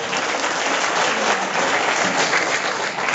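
Dense, steady applause from a hall audience at a felicitation ceremony, honouring a brigadier, loud and sustained throughout with no pauses.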